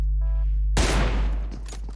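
Gunfire in a tournament match of a battle-royale shooter game, a sudden loud burst of shots that cracks in after a brief quiet hum and then trails off.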